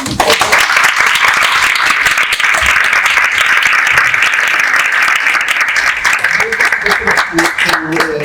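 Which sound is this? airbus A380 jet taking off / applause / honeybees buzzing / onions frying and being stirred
applause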